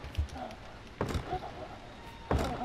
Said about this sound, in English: I'm just gonna keep hitting the door.